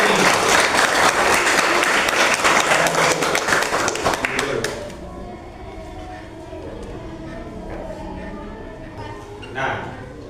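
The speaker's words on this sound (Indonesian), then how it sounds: "Kasih tepuk tangan untuk ketiga nomor ini" Applause from a classroom of students for three answers, a dense burst of clapping for about four and a half seconds before fading into quieter room noise with faint voices.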